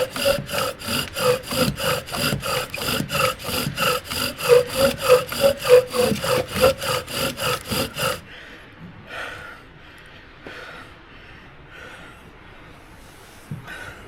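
Bow drill spinning a wooden spindle, heard as close, rhythmic back-and-forth rasping strokes at a steady quick pace for about eight seconds, then a few fainter scrapes.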